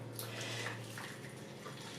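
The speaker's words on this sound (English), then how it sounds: "I'm going to pour in some boiling water to save me time." Boiling water pours steadily from a kettle into a pan sitting on a kitchen cooker, a continuous close splashing gush that runs unbroken for about two seconds with no voices.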